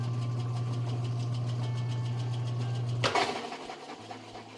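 Kenmore washing machine spinning on test, a steady mid-pitched motor hum with rhythmic pulsing that stops abruptly with a short clunk, then a lower, fainter whir as the drum coasts down.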